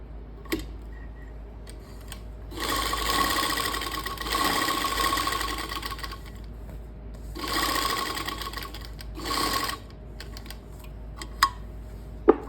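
A sewing machine runs in two sustained bursts, stitching a seam alongside buckram while cutting a kurti or suit, with brief pauses and a few isolated clicks between runs; no one speaks.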